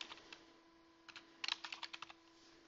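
Someone types a folder name on a computer keyboard in a quiet room, with a few sparse key taps first and then a quick, faint burst of clicks under a steady low hum.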